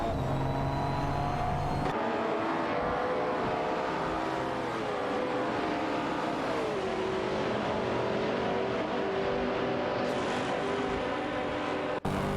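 Racing video game cars, including a Jaguar F-Type Project 7 and a Tuscan, with engines droning and whining continuously, pitch sweeping down and shifting as gears change, loud and close with no talking.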